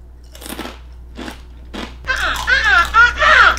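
A dry gluten-free cracker is bitten and crunched in a few sharp, separate crunches, followed by someone speaking and giggling close by.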